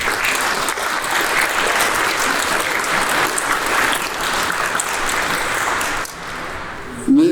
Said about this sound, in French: On peut applaudir ces deux prêtres.